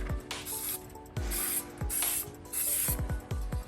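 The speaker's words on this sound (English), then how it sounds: "spray" Spray adhesive hissing from an aerosol can onto a piece of card for a jack-o-lantern design, in several short bursts with clicks between them, close and loud.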